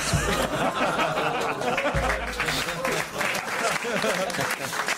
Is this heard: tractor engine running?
no